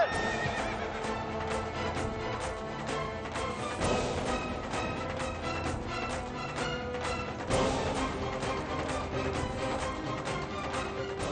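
Horse neighing loudly alongside busy clip-clopping hooves, with repeated whinnies and sharp impacts over a dense, continuous layer of hoofbeats in a historical drama scene.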